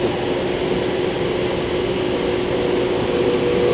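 A vacuum pump on a plastics extruder draws material up into the upper reservoir with a steady, dense mechanical whirring and rattling that never lets up, loud and close throughout.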